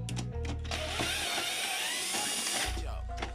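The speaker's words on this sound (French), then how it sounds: "Ouais, elle est capricieuse la perceuse. Elle est morte la perceuse, hein." A faulty electric drill, worn from polishing parts and needing to be struck before it works, clunks and knocks, then whirs loudly up close for about a second and a half before cutting out.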